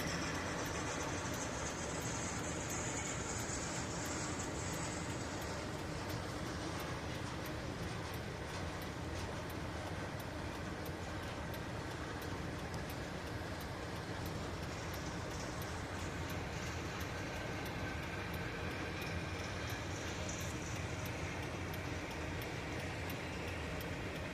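A slow CN manifest freight train creeping past at night, a steady rumbling roll of wheels with faint rhythmic clicking over rail joints, continuous and moderately loud without speech.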